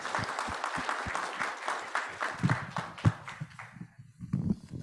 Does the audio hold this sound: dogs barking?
no